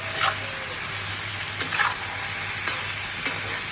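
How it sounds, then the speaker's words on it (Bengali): Stirring and sizzling in a frying pan holding egg, tomatoes and coriander leaves, with steady frying hiss and a few scraping strokes of the utensil, close and alone. "একটু নাড়াচাড়া দিয়ে যাতে ধনে পাতায় ঘ্রাণটা সব জায়গায় ছড়িয়ে যায়"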